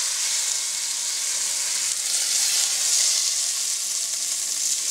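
Beef browning in hot oil, a dense, even sizzle held close and loud without pause, no talk over it.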